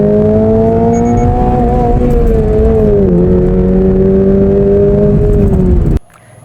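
A Toyota GR86 sports car engine revs steadily at close range, its pitch wavering slightly, then cuts off abruptly near the end, leaving near silence.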